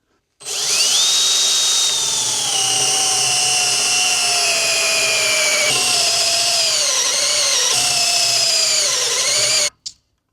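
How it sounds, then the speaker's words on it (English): A power drill whines loudly and steadily for about nine seconds while drilling a hole in a guitar body, its pitch dipping as it bites in, then stops abruptly. "So I just need to first of all drill out a hole"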